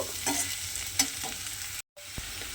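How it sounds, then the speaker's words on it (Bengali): Flat beans and potatoes fry in a pan with a close, steady sizzle and occasional scraping stirs; the sound cuts out briefly, then resumes with a sharp knock. "শিম আলুটা আমি এইভাবে বেশ কিছুক্ষণ কিন্তু ভাজা ভাজা হতে দিয়েছিলাম।"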